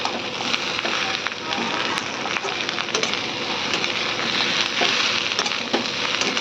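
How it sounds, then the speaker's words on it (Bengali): Rice already fried in ghee is stirred and sautéed in a pan for muri ghonto, a fish-head rice dish with potatoes and spices. A loud, dense sizzle runs throughout, with scraping and crackling ticks from the stirring. "ঘি দিয়ে ভেজে রাখা চালটা দিয়ে দেবো, দিয়ে আবার এটা 2-3 মিনিট কষাবো।"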